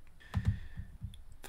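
Mouse clicks on a computer while working in FreeCAD CAD software, a few quiet, separate taps spread over a second and a half against a low, soft background hum.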